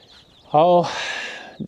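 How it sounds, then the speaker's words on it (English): Young, fluffy egg-laying chickens of a new breed make a short, close call: a rising chirp followed by a longer raspy squawk and a soft final cluck. "I hope you can see they're just nice, fluffy, cute chickens."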